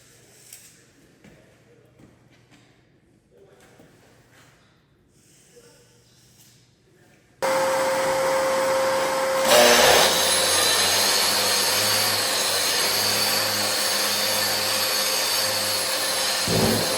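A power grinder works on a concrete floor while being prepared for leveler. It starts abruptly and runs as a loud, steady, harsh whine with a persistent hum, following a stretch of quiet talk and shuffling.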